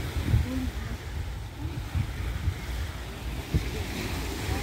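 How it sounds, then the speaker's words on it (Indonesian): Strong ocean waves at Ras Tanura beach, a continuous low rumbling surf mixed with wind buffeting the microphone, moderately loud and steady throughout. "Ombaknya kencang banget"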